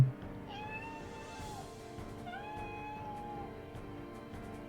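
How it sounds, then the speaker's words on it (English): A cat meows repeatedly from a small smart speaker, the recorded meows sounding slightly thin and tonal, with no talking. "Here's a cat meow."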